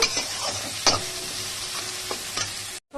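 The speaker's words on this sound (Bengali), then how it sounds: "আরো 5-7 মিনিট আমি কষাবো মাংসটা" Goat meat sautéing in a pan, a dense continuous sizzle with a few scraping stirs, ending abruptly in silence.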